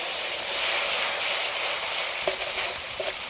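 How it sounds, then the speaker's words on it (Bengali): A spice paste with salt, turmeric and a splash of water fries in a pan, giving a loud, close, continuous sizzle and hiss with a few soft scraping stirs toward the end. "আর এই মশলাটা কিন্তু বেশি ভাজবো না, একটু হালকা করে ভেজে নিয়েছি।"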